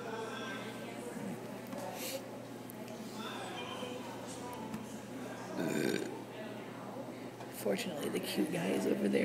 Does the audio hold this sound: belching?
yes